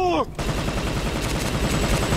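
Dense, continuous gunfire and machine-gun bursts from the video game Toy Soldiers: Cold War, loud and close, starting after a short tonal in-game sound and rattling on without a break.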